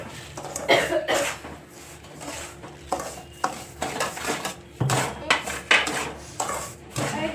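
Modak mixture stirred in a pan over low gas, with a spoon scraping and clinking against the metal in a busy uneven rhythm, close and clear, plus a faint sizzle and an occasional cough.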